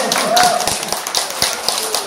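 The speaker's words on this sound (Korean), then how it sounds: "여러분들이 박수 소리가 정말 크게 나오는지 연습 한번 해볼게요" An audience at an 80th-birthday banquet practises clapping in sharp, uneven bursts, with distinct claps standing out from the crowd and a voice talking over them.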